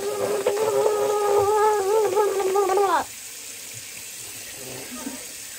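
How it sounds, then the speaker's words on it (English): Tap water runs steadily at a sink while a child's face is rinsed. A voice carries over the water for the first three seconds, then the flow continues more quietly. "rinse your face."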